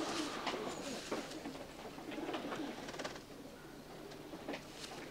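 Racing pigeons coo softly and repeatedly inside a loft, several birds overlapping in low rolling calls with occasional wing rustles, fairly quiet and steady.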